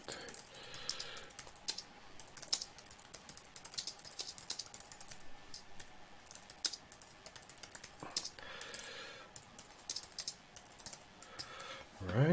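Quiet, close keystrokes patter on a computer keyboard in irregular bursts as a comment is typed, with occasional louder key taps and a faint breathy sound.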